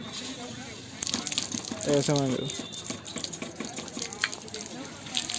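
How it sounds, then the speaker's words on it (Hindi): A foot-pressed water pump at Hastinapur fort sends water gushing out in uneven splashing bursts. Someone talks over the flow. "इसको दबाओ तो ये पानी देते हैं, पैर से अगर खड़े हो जाओ।"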